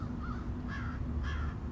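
A crow perched high in the top branches of a tree caws three times, each call short and harsh, heard a little way off over a quiet outdoor background.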